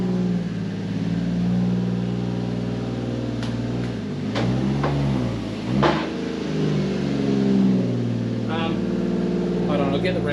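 A car engine hums steadily up close while it creeps forward, with a couple of brief revs partway through and a person talking over it.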